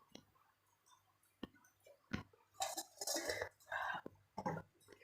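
A kadai, a deep Indian cooking pan, is set down on a home kitchen stove with a few sharp metallic clanks and knocks, followed by a busier stretch of clattering cookware in a quiet room.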